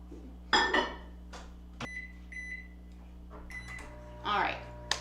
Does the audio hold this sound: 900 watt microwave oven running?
yes